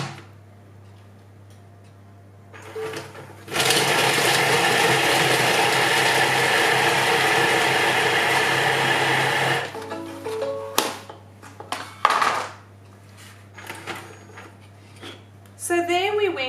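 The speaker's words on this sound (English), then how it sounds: "So there we went from cauliflower to cauliflower rice in 5 seconds." Thermomix TM7 blade chopping a head of cauliflower into cauliflower rice, a loud steady whirring roar lasting about six seconds before cutting off, followed by clattering of the lid and bowl.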